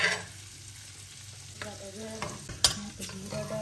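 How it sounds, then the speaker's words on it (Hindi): Mustard oil poured into a hot pan for cooking vegetables gives a soft, close sizzle with light stirring scrapes and a few small clinks, fairly quiet and with no talking. "यहाँ पे मैं सरसों का तेल डाल रही हूँ सब्जी बनाने के लिए"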